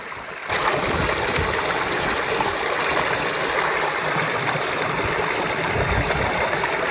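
Clear water in a river bed at a picnic spot in Khuzdar flows in a steady, close rushing babble that starts abruptly and continues without pause.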